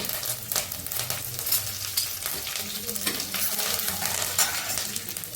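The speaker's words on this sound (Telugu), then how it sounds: "ఇంగువ కొంచెం తాలింపులు వేస్తున్నాను" Hot oil sizzles and crackles steadily up close as tempering spices, asafoetida, curry leaves and green chillies are fried, with light stirring and occasional clinks of a utensil against the pan.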